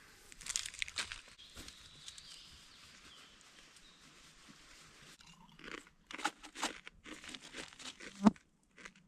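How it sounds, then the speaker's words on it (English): Crunchy Doritos and a crinkling snack wrapper at a campsite on an Appalachian Trail thru-hike, with soft chewing and bites in the first seconds and louder crinkles and crunches in bursts toward the end; no talking. "for dinner, just having some peanut butter, Doritos, and a Builder protein bar"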